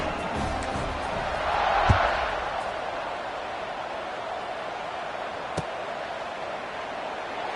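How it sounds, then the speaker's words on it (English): Stadium crowd noise from the College Football 26 video game, a steady broadband buzz throughout with a brief swell near the start and a few sharp thumps. "this crowd is buzzing after that last score"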